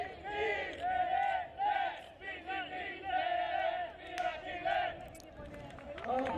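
National team supporters at the Rotax karting Grand Finals in Bahrain chant in unison, a loud rhythmic crowd of voices rising and falling near the pit area, with a voice leading the call.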